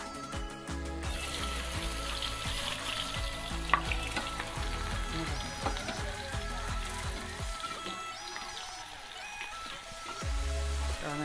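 Chopped onion frying in hot oil in a home kitchen after potatoes have been fried for a chicken curry, with a steady close sizzle, busy crackle and occasional stirring clatter, no talk.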